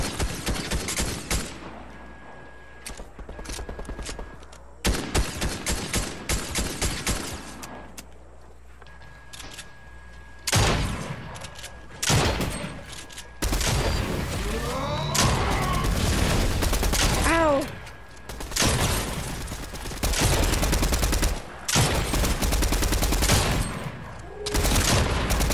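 Rapid bursts of Fortnite gunfire crackle in loud clusters across the scene, some spaced single shots and some sustained automatic volleys, with players talking excitedly in between.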